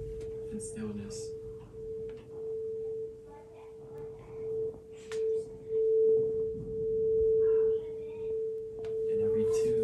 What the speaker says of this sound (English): And every tune and every hum of the sound bowl